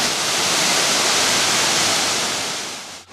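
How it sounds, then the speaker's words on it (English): Waterfall cascades along the Ammonoosuc Ravine Trail on Mount Washington pour in a steady, loud, broadband rush of falling water, close and uninterrupted, with no voices. "all along the path there were spectacular cascades."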